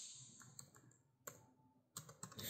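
Typing on a computer keyboard while entering text in a field, heard as a few quiet scattered clicks and then a short, louder burst of keystrokes near the end, close and with no one talking.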